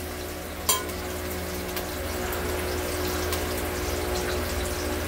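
Onions frying in a pan for veg pulao, a steady, moderate sizzle with a sharp clink of a utensil early on and faint stirring, close and without talking.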